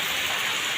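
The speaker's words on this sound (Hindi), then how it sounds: "पहला बारिश की पहला पानी टिक टिक टिक टिक बरसा तेरी बरसा रानी" First monsoon rain falling, a steady dense hiss of rain with no voices.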